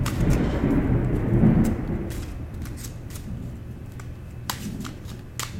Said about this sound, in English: Do you hear that thunder and lightning?